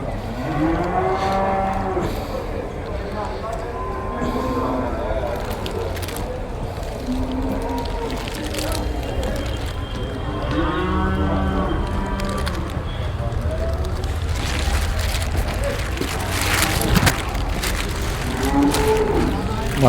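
Cows moo repeatedly at Vaniyamkulam cattle market, a mother cow with her calf among dairy cattle, their calls rising and falling over a steady rain-like hiss and crowd noise, with people talking nearby.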